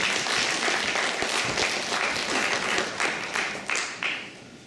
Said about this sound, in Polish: Gorące brawa i gratulacje.